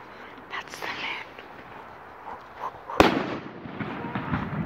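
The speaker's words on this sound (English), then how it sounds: "we see fireworks before we hear them because the speed of light is faster than the speed of sound" Bonfire night fireworks pop and crackle at a distance, with one sharp loud bang near the middle followed by scattered crackling, while people talk quietly throughout.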